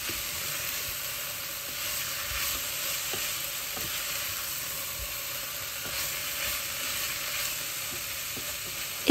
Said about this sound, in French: j'y ajoute les poivrons et on va laisser revenir pendant 5 minutes, le temps que les poivrons deviennent bien fondants